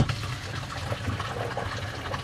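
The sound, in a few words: wash water draining from RV shower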